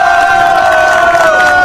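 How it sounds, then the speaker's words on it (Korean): A crowd at a political rally cheers and shouts loudly and close, a continuous roar of voices with a steady held tone running through it. "큰 박수로 격려해 주시기를 부탁드립니다"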